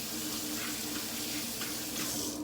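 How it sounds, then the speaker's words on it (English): Hands rinsed under a running kitchen tap give a steady, close splash and hiss of water, unbroken for the whole couple of seconds. "So I'm just gonna rinse my hands here quickly"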